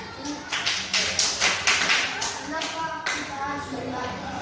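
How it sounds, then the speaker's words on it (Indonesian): Children in a sixth-grade religion class clap hands in a quick, uneven burst of overlapping claps, with a few voices mixed in, before the room settles. "tepuk tangan"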